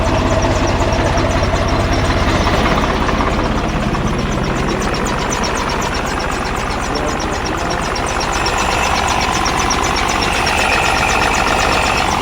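A tractor engine runs steadily at about 600 rpm during morning crop spraying, a continuous loud, close idle drone that stays constant throughout without any talk over it.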